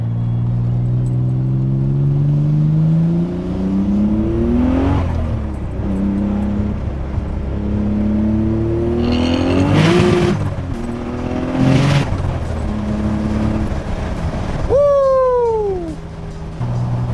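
Nissan 300ZX running 21 psi of boost, pulling hard through the gears with loud rising engine tones, brief shift breaks and a sharp descending whine near the end, close and loud.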